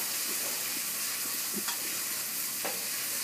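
Onions fry in oil, a steady soft sizzle and hiss with faint scraping stirs and a couple of sharp clicks from the pan, fairly quiet and alone.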